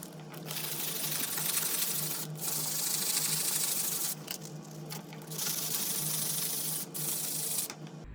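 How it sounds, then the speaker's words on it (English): A block of 80 grit zirconia sandpaper scuffs the underside of an oak block plane body. The close, steady rasping comes in long strokes broken by a few brief pauses. "I'm gonna scuff it up real good with some 80 grit sandpaper"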